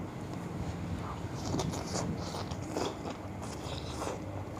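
Close biting and crunchy chewing of sliced pork belly dipped in a spicy seafood sauce, a few distinct bites over a steady background hiss with no talking.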